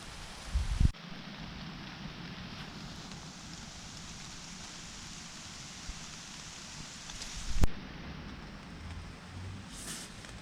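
Light rain pattering on a 3x3 ultralight camping tarp shelter pitched over pine needles, a steady soft hiss of drops with a couple of brief louder knocks, heard alone with no talking.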